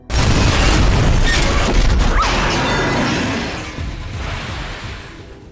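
A loud, booming explosion with a crashing roar that slowly fades into rumbling debris and noise.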